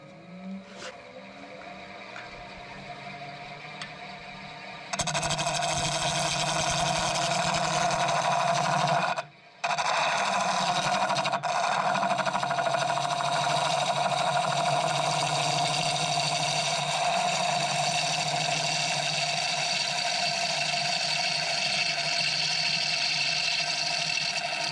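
Sandpaper held against a spinning wood-turned bird feeder tray on a lathe, a steady loud broadband hiss over the motor's hum, briefly cut off near the middle, then resuming continuously.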